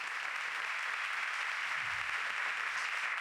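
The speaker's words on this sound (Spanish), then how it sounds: "Un aplauso para Margarita, gracias." Applause from a seminar audience after a philosophy-of-technology talk, a steady dense wash of clapping that stays even and moderately loud throughout without voices.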